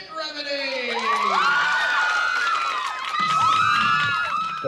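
Crowd cheering for a band: a dense swell of excited shouts, whoops and high squeals rising and falling continuously, loud and close, with voices talking underneath.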